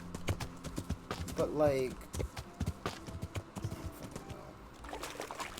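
A horse's hooves clip-clop in the video game Kingdom Come: Deliverance, a quick run of soft, close hoofbeats with splashy, trickling sounds, while someone talks over it.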